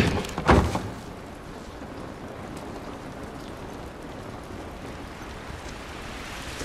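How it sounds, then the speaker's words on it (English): Steady rain falling in The Last of Us, a continuous soft patter on surfaces after a brief thump at the start, moderately loud and even throughout with no voices. "This rain ain't gonna do us any good."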